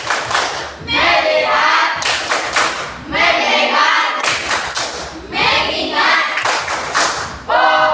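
A class of schoolchildren claps in loud, rhythmic bursts for the tepuk fokus chant. Quick claps alternate with short chanted phrases, and the children's voices are heard between the clapping rounds.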